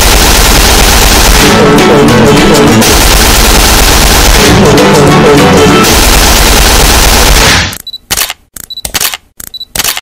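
Animated sound effect of rapid automatic gunfire cutting down a crowd of Alpha Borises, loud and sustained, then breaking into a few sharp, separated bursts with gaps near the end.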